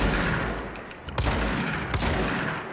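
Gunfire and explosions from the video game Control crackle as a dense, continuous barrage, with two sharper blasts cutting through the steady noise.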